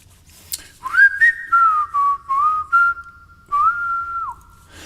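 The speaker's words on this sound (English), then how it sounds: "I'm just whistling down the road." A person whistles a melody in clear, sustained notes with short breaks between phrases, close and fairly loud with nothing else around.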